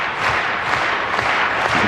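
A tennis crowd at an indoor women's quarterfinal in Zurich applauds steadily, a dense wash of clapping filling the arena at moderate loudness with no voices on top.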